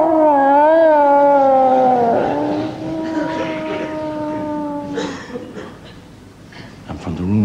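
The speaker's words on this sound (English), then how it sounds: "he gave out the most baleful of hound-like howls" A long, wavering hound-like howl, loud and close, sliding downward and fading into quieter noise, followed by a brief rustle.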